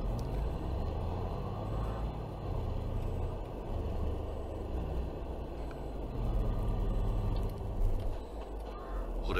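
Vehicle engine driving in Farming Simulator 22, a low, steady rumbling drone with mild fluctuations, moderately quiet and continuous without talk.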